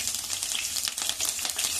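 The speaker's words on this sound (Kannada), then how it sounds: "ಬೆಳ್ಳುಳ್ಳಿ ಹಾಕೊತಾ ಇದ್ದೀನಿ, ಫ್ರೈ ಆಗ್ಬೇಕು" Garlic and green chillies frying in oil in a pan for bele sambar, with a continuous bright hiss of sizzling and faint stirring scrapes, close and fairly soft, no speech.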